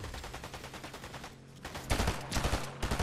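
Rapid bursts of gunfire from a video game, in a solo-versus-squads match after the Magneto update, rattle in quick repeated volleys, growing louder and denser toward the end.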